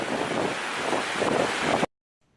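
A strong stream current rushing and waterfalls pouring down a fell on a coast to coast walk, a loud continuous roar of water that cuts off abruptly into silence.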